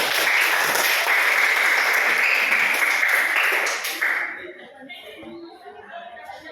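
A classroom of students claps together in a dense, sustained round of applause for several seconds, then it tapers off into quieter scattered sounds and light chatter.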